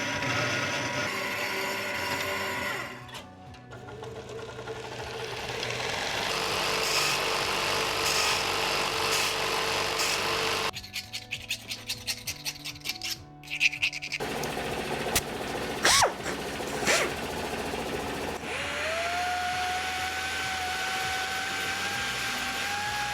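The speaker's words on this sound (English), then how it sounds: "you saw me cut this pipe up" A metal pipe is cut to length during a fabrication build. The power tool gives a loud, steady whine with short breaks and choppy bursts, then a rising tone near the end.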